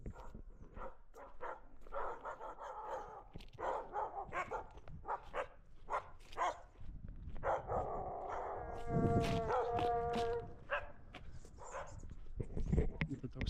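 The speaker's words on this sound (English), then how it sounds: "the dogs are barking" Dogs barking in a forest in Antigua, heard through someone talking at length, with birds calling in the background.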